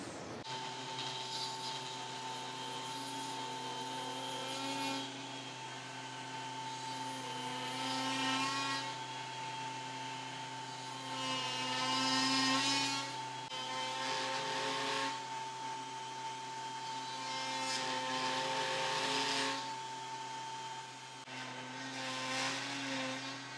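Genmitsu 3020 Pro Ultra desktop CNC milling metal with a single flute end mill gives a steady, harsh whine with strong tonal harmonics and a rasping buzz that swells and fades in loudness, continuous throughout with no talking.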